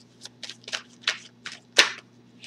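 Tarot cards being shuffled and riffled by hand to draw a card, a series of about seven quick papery bursts, close and clear, with the last flurry loudest and a low steady hum underneath.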